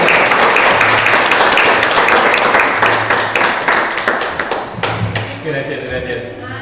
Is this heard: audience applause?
yes